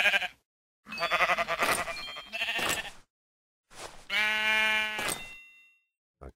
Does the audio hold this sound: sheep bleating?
yes